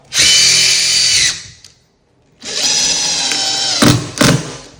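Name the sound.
Makita oscillating saw cutting hardwood floor board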